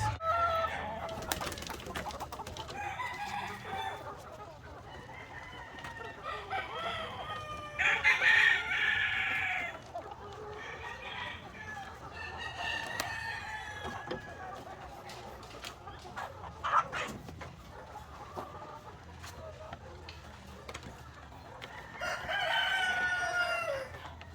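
Farm chickens being fed cracked corn, clucking steadily with a rooster crowing loudly several times, near and lively, with occasional faint talk in the background.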